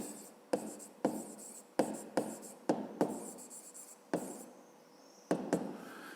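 A pen writes a math solution on paper during a fifth-grade lesson, leaving a series of short, close scratchy strokes separated by small pauses in a quiet room.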